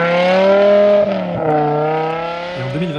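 A BMW M5 Touring's V10 engine roars in a loud, close, sustained howl, its pitch holding high then dipping slightly and shifting toward the end.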